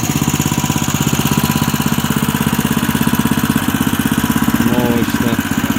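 Honda engine fitted to a homemade three-wheeled vehicle built from a Niva, running steadily with a loud, fast, even putter throughout, close by and with no talk.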